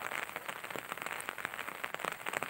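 Steady patter of rain falling outdoors near rice paddies, a soft, even hiss of drops striking surfaces, fairly faint, with no talking.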